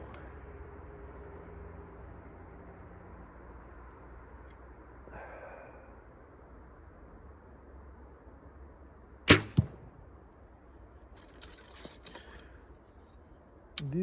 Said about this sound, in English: These arrows are heavier, and you can feel and hear them flying